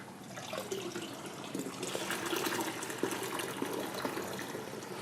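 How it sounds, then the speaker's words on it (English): Sanitizer liquid pours and splashes steadily into a homebrewing bucket, a continuous gushing with small spatters, no talking. "I'm gonna pour it back in the bucket so we don't waste it"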